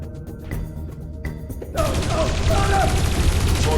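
Gunfire erupts in Dreamfall Chapters after a quieter stretch with a tonal ambient bed, becoming a loud, dense volley of shots and impacts that continues to the end.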